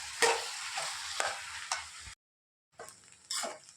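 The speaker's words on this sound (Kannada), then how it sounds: "ಅನ್ನ ಹಾಕಿ 1 ಸ್ಪೂನಷ್ಟು ಪೆಪ್ಪರ್ ಪೌಡರ್ ಹಾಕ್ಕೊಳ್ತೀನಿ. ಸೋಯಾ ಸಾಸ್ ಹಾಕ್ಕೊಳ್ತೀನಿ. ಫುಲ್ಲು ಮಿಕ್ಸ್ ಮಾಡ್ಕೊಳ್ತೀನಿ." Egg fried rice with pepper powder and soy sauce is stirred in a hot pan: soft sizzling under repeated scraping strokes, a brief silent break, then more stirring and sizzle.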